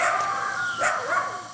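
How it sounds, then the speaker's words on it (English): A dog at a Spring Hill home gives short barks and yips over a steady background hum, fairly close and moderately loud, with no talk. "before being greeted by incessant barking"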